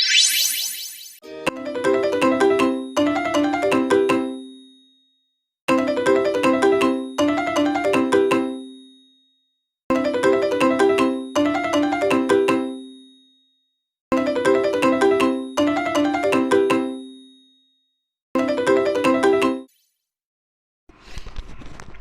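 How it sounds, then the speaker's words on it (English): A phone ringtone plays a repeating melodic chime in paired bursts, about five rings separated by short silences, loud and close with no talking over it. "My phone is ringing."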